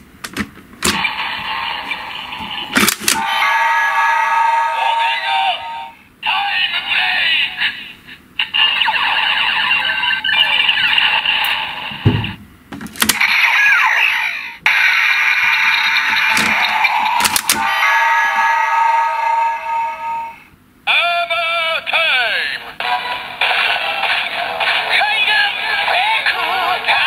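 Specter Ridewatch gashapon toy playing its finisher sound effect, a series of loud electronic bursts and jingles broken by short pauses, small and tinny from the toy's speaker.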